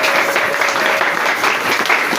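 A church congregation bursts into loud, sustained applause and cheering for Jesus during a French-language worship service, a dense wash of clapping with scattered shouts filling the room throughout.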